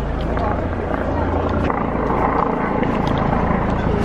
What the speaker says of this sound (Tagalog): Ang ingay na yung helicopter.